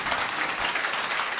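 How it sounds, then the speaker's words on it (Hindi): A seated audience breaks into loud, close applause, a continuous thick patter of many hands clapping with little else heard over it. "एक अच्छी ताली बजा के प्रभु को धन्यवाद"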